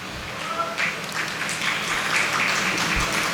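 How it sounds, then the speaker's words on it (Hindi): Audience at a mushaira poetry gathering in Patna claps in a soft, diffuse wave, moderately distant, with scattered voices in the hall. "इजाज़त का मतलब ताली नहीं होती।"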